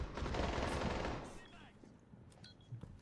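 Rapid automatic gunfire in a video game gunfight, a loud sustained burst for about a second that fades into quieter scattered shots and game sounds.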